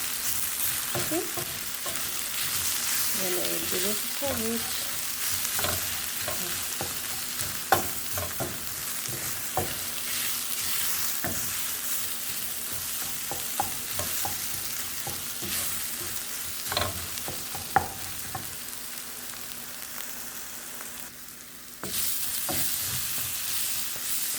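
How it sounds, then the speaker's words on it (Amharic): Berbere spice stirred and frying in a pot for Ethiopian shiro stew: a steady close sizzle runs throughout, with repeated scraping and clinking strokes of a spoon against the pan, and no talking. "አሁን በርበሬ እንጨምራለን ማለት ነው።"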